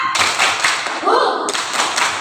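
Students in a coding class clap their hands together on a count, a few loud, close group claps in quick succession, with a short voice sounding between them.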